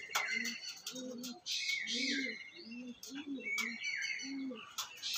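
Andhra pigeons kept for sale coo in repeated low, rounded calls with a steady rhythm, mixed with sharper chirps from nearby birds, close and moderately loud.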